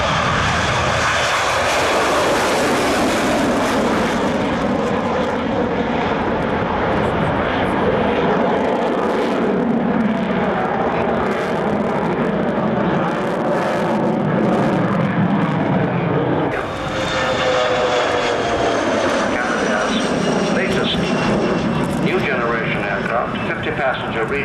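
A Jetstream 41 regional aircraft flies at the 1992 Farnborough Airshow, its engines droning loud and steady as it passes. The pitch shifts partway through, and a commentator talks over the noise.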